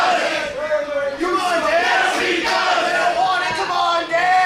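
A professional wrestling crowd chants a wrestler's name in a loud, rhythmic, sung cadence, with repeated rising and falling phrases from many voices filling the arena.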